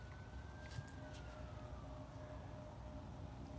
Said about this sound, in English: You hear a police car?